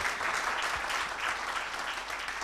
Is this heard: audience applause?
yes